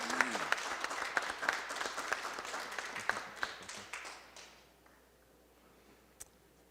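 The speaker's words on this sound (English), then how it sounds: "Give them a round of applause." Applause rises at a city council meeting in Fresno, a crowd clapping moderately for about four seconds before fading out, leaving quiet room tone and a single faint tick.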